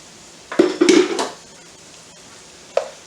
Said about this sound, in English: I'm going to go ahead and add in my 4 cups of chopped broccoli.